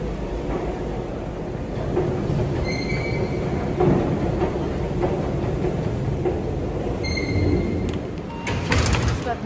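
A commuter train at Stuvsta station, with a steady rumble of the train, door chimes and sliding doors, and brief squeals near the end, while a voice talks over it.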